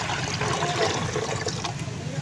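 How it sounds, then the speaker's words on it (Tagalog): Water pours steadily into a container for mixing with fertilizer, a continuous splashing rush with no pauses, close and fairly loud throughout. "Maghahalo tayong tubig ng abono sa tubig."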